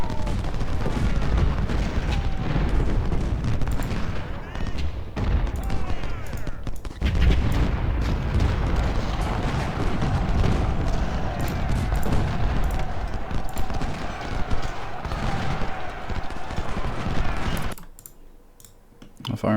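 Musket volleys and artillery fire in the Civil War strategy game Ultimate General: Civil War, heard as a dense, continuous crackle of distant shots and booms, with someone talking over the battle noise.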